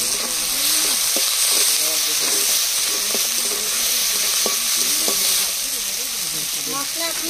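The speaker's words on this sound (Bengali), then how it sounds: "मसाला हमारा फ्राई हो गया" Masala of chopped cumin, chilli, turmeric and salt sizzles steadily in a pan, loud and close, with scraping stirs and faint clinks scattered through.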